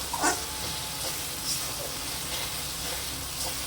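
Soybean curry masala is sautéed in oil in a pan, giving a steady, soft sizzle with a few light stirring scrapes and clinks near the start.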